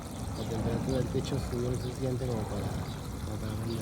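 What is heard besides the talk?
water flowing through a pipe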